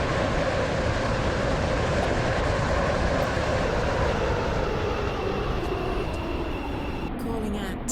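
A video-game train rolls into a station, its steady rumbling, rattling carriage noise filling the scene loud and unbroken while an automated onboard announcement voice speaks over it.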